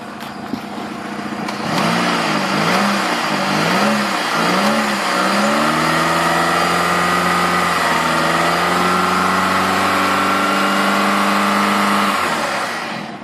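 A 2003 Saturn Vue engine idles, then is revved in several quick rising and falling bursts before settling into a higher steady drone and dropping back, all close and with no talking.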